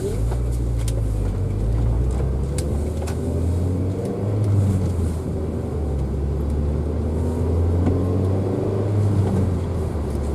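A car cruises around the block at night, heard from inside as a loud, steady engine and road rumble with slight rises in revs and no talking.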